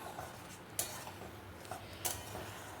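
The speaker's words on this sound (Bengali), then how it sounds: "অনবরত নাড়তে নাড়তে দেখা যাবে যে এরকম ফেনা ওঠা শুরু করেছে" Ripe mango jam is stirred in a wok over medium gas, a quiet scene with a few soft scraping strokes and two sharper spoon clinks against the metal.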